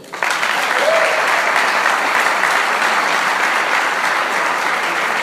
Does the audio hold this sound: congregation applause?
yes